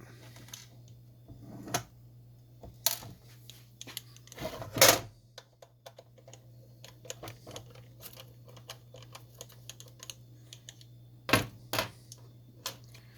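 A tiny short screw is backed out of the mechanism cover on a Shotlock Solo Vault, giving sparse small metallic clicks and scrapes close up over a low steady hum, with a louder rattle midway.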